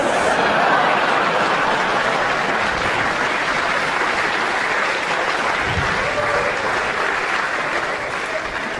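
An audience claps steadily at a stand-up comedy show, a dense, sustained applause that stays strong for the whole stretch with only faint scattered chuckles underneath.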